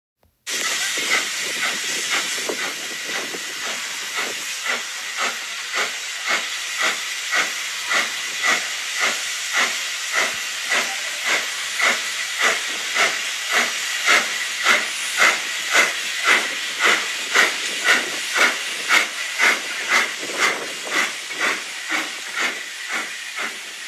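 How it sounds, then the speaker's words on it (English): An upgraded Hornby Austerity model steam locomotive runs along an exhibition layout siding with its sound system on, giving steady rhythmic steam chuffs over a continuous hiss for the whole stretch, close and fairly loud. "The loco's just heading down the siding now, ready to stable for the weekend."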